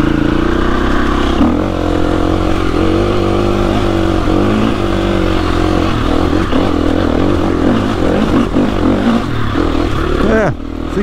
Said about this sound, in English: So we'll get on the bike here.